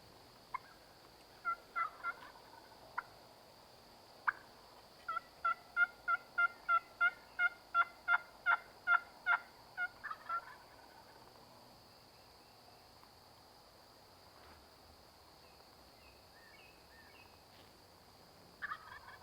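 Wild turkey gobbling during a Tennessee spring turkey hunt: a run of rapid, evenly spaced gobbles from a distant bird, with scattered single calls before and after, over a steady high insect drone and quiet outdoor ambience.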